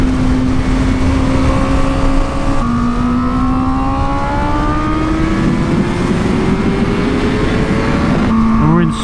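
A 2020 Honda Fireblade SP on new slicks and fresh brake pads runs sighting laps on a race track, its engine a loud, continuous, close-up roar with tones climbing steadily as it accelerates.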